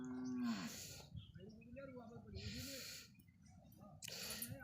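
Water buffaloes at a borewell beside a wheat field give a deep, drawn-out moo, followed by snorts and breathy bursts from the animals close by, with soft background noise between.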